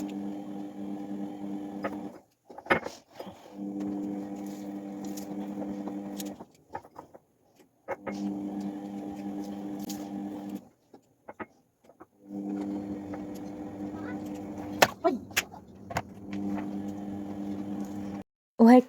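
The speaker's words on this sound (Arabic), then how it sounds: "واحلى شي صوت الغسالة كل شوي طالع بالفيديو" A washing machine drones with a steady motor hum that cuts out and restarts in cycles, with occasional clicks and knocks.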